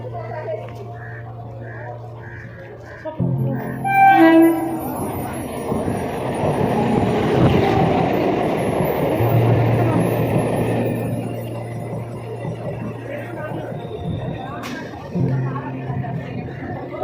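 Low steady rumble of a heavily crowded train with a busy crowd murmuring around it; talking voices rise and fall over the constant hum.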